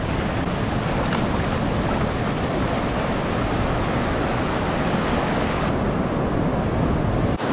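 Ocean waves at a beach in Bali wash in as a broad, continuous rushing roar, close and loud, with wind buffeting the microphone and no voices.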